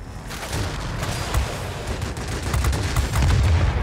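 Radar-fused anti-aircraft shells fire in a World of Warplanes air combat game, a dense run of sharp gunfire bursts and booms over rushing engine noise, growing louder toward the end, with no talk.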